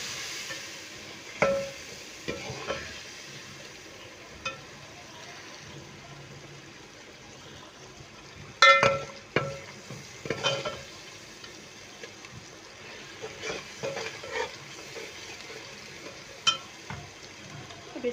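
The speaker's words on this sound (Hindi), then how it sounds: "इसको भूनेंगे।" Spices and mixed vegetables fry quietly in a pan while a spoon scrapes and stirs, giving scattered clinks and scrapes over a soft continuous sizzle, with a few sharper knocks against the pan.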